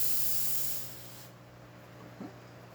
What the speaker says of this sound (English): Steam for this machine, as you can see, nice and strong